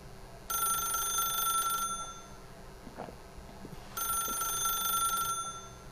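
A telephone in The Stanley Parable rings in two long bursts of bright electronic trilling separated by a pause, loud and close with no talk over it.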